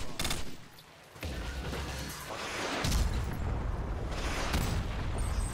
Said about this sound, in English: Yo, the Predator missiles sound deadly,